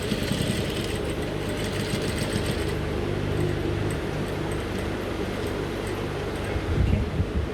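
A sewing machine runs steadily, top-stitching the zipper fly of a pair of trousers with a continuous, close, even mechanical whir and no talking.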